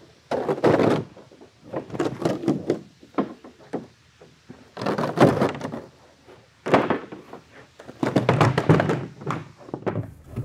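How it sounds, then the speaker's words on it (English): A styrofoam-filled door being torn apart: a series of loud, close knocks, thuds and cracking bursts in irregular clusters with short quiet gaps between, no talking. "Let's tear this thing off and see what the inside of this door actually looks like."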